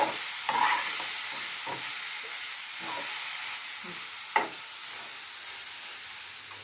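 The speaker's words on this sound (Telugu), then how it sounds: "కొంచెం నూనెలో కొంచెం ఫ్రై అయితే బాగుంటుంది ఉల్లిపాయతో పాటు" Onions frying in oil in a pan for a dried fish curry, a soft steady sizzle with occasional scraping stirs and clinks, close by and fairly quiet, no talking.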